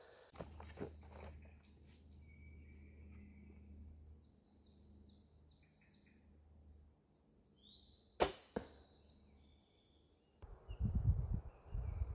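Arrows fired from a bow strike 3D foam targets on an outdoor archery course, giving two sharp, separate thuds several seconds apart against quiet woodland with faint birdsong, followed by nearby rustling footsteps.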